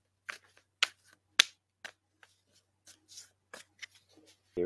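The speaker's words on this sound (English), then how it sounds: "I'm shuffling up the cards," A deck of cards is shuffled up close, heard as a sparse series of crisp, faint riffles and snaps with short gaps of near silence between them.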